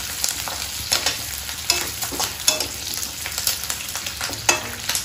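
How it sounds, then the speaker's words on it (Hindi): Vegetables for restaurant-style chilli paneer stir-fried in a hot pan, giving a steady close sizzle with repeated scraping strokes of the spatula at an irregular rhythm, no voices. "फिर इसको दोनों चीज़ को 5 सेकेंड के लिए थोड़ा सा चलाएंगे"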